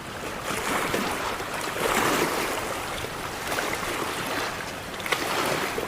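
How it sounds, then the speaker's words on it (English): Filleted fish rinsed in seawater at the shoreline of a Florida inlet, a steady wash of splashing water and surf with no distinct strokes, moderately loud and continuous throughout. "I'm just gonna rinse it in some of the seawater."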